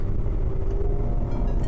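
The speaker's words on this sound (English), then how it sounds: "right now my car is in second gear, and I'm going to give it complete gas over here" A 2020 Maruti Suzuki Vitara Brezza engine pulls at full throttle in second gear, a loud, steady low rumble with a rising drone, heard from inside the cabin with no talk over it.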